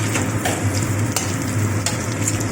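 Meat stir-frying in a pan for fried rice vermicelli: a steady, close sizzle with scraping stirs from a spatula, loud and continuous with no talking.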